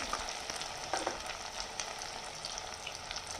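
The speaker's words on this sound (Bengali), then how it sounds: "এই যে আদা রসুনের ভাজা হয়ে গেছে, কাঁচা গন্ধটা চলে গেছে। এবার এক এক করে সব মশলাগুলো দেবো।" Ginger and garlic fry in hot oil with ground spices, giving a steady close sizzle broken by occasional crackles and stirring scrapes.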